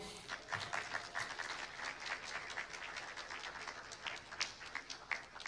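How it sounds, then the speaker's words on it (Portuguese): A church congregation applauds during a sermon, steady scattered clapping at moderate distance that continues throughout, fairly quiet and without speech. "Você pode aplaudir ao Senhor?"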